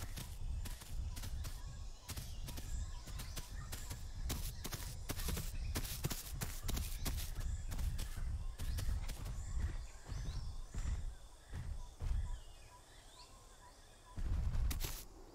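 Heavy creature footsteps in the dinosaur survival game The Isle, a dense run of thudding steps over ambient wilderness noise, fairly loud, thinning out near the end before a final cluster.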